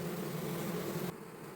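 Honey bees swarm over cut honeycomb frames during a honey harvest in Kharkiv Oblast, a steady dense buzzing close by that drops to a softer hum partway through.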